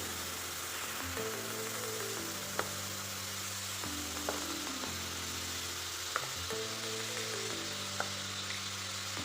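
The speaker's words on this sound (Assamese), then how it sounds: "এইখিনি কেঁচা গোন্ধ যোৱালৈকে ভালদৰে ভাজি ল'ম" Spice paste fries in hot mustard oil for a mustard fish dish, a steady close sizzle broken by occasional clinks of a stirring spoon against the pan.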